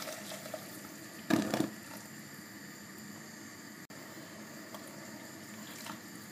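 Hot water is poured into a pot of Tunisian sder, a soup with lemon and capers, in a short splashing gush about a second long that stands out from a steady background hiss, with no talking.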